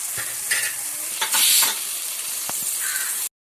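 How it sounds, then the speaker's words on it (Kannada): Vegetables fry in oil for bisi bele bath, a close hissing sizzle with quick spoon stirs and one louder burst of spitting, a crow cawing faintly in the background. "ಅದರಲ್ಲೇ ಹಾಕಿ ಫ್ರೈ ಮಾಡ್ಕೊಳ್ಬೇಕು."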